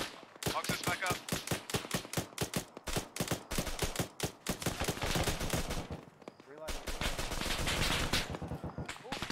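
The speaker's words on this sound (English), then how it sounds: "that's AA fire hitting us" Heavy anti-aircraft fire in the Arma 3 military shooter hammers out in rapid, loud bursts of repeated shots with brief gaps, close and dominant, with voices faintly under it.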